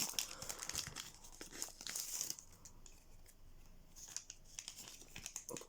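Pokémon card packaging from a 25th anniversary Celebrations Pikachu V-UNION box being opened, with close crinkling and tearing of foil wrap in bursts, loudest early, then quieter rustling with no talk.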